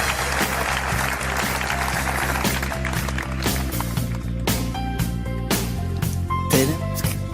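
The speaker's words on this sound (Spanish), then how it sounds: "Pido un aplauso para él" An audience applauds at the close of an event, sustained clapping heard over loud music with a steady beat and tonal backing throughout.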